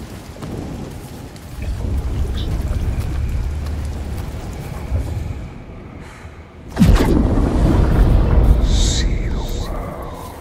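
Rainfall and thunder in the video game Senua's Saga: Hellblade II: steady rain hisses throughout, then a loud, close thunder crack bursts in and rumbles on, with voices speaking now and then.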